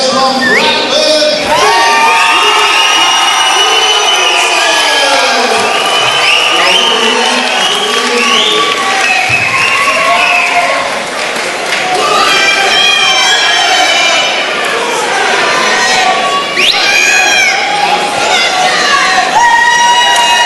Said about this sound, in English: definitely a bit of local support there for James